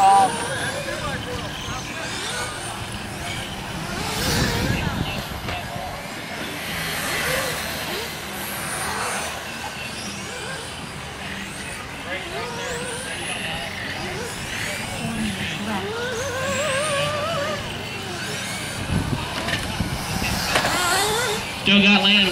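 Radio-controlled on-road cars racing in a novice main event, their high-pitched motors whining and sweeping past near and far throughout, under steady race commentary from an announcer.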